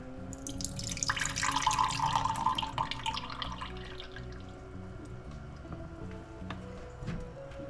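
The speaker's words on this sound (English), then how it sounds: "I'm gonna attempt to dump it into this glass so I can kind of show you how much water we're getting out" Water pressed from tofu with a Noya tofu press is poured into a glass, giving a brief trickling splash followed by scattered drips, close and fairly quiet with no talking.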